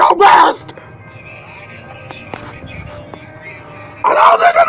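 Dogs barking in short, loud bursts at the start and end, with a person talking loudly in between and over the barks.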